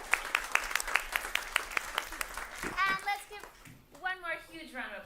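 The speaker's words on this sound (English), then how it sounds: "Give yourselves a round of applause, and thank you." Scattered clapping from a small audience at a food and sustainability talk, a handful of sharp distinct claps fading out as children's voices and chatter take over.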